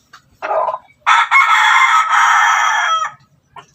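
An ex-bantam rooster crows loud and close: a short opening note, then one long sustained cock-a-doodle-doo lasting about two seconds, followed by a faint trailing cluck, with no one speaking over it.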